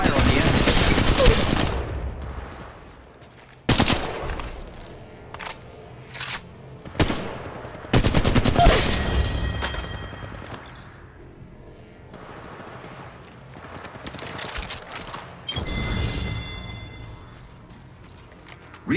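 Gunfire in the mobile battle royale game Apex Legends Mobile: repeated sharp bursts of automatic and single shots in uneven clusters, loud and close, with quieter game ambience and effects between volleys.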